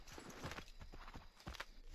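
Horse hooves clip-clopping at a brisk ridden gait in Assassin's Creed 3 Remastered, a steady rhythmic run of hoof strikes heard close with faint background game ambience.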